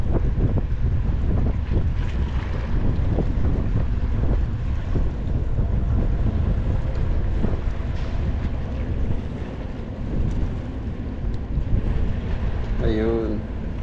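Wind gusting around a fishing boat out on the water at night, a constant loud rushing roar with faint voices underneath and a brief tonal sound near the end.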